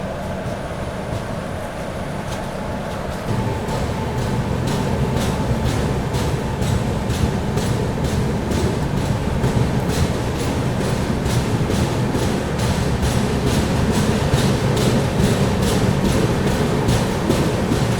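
The Patliputra Superfast Express rolls steadily past on the rails at Kasara railway station, with a dense rumble and a regular clacking of wheels over joints that continues throughout.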